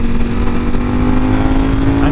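A 2020 Ducati Panigale V4 motorcycle exhaust revving hard while riding near 7,000 RPM, a loud sustained roaring drone heard up close from onboard.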